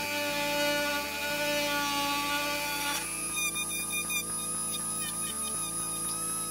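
A Dremel rotary tool with a broken switch and no speed control whines steadily while polishing a Matchbox 1967 Mercury Cougar model car, its pitch shifting partway through as the bit bears on the metal, with brief low bumps.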